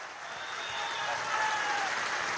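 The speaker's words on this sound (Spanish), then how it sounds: "Pido un aplauso para el ministro Ildemaro Villarroel" Applause from a crowd greeting a government minister at a Venezuelan official event: steady dense clapping, fairly distant and moderate in level, rising slightly and holding throughout with no talk over it.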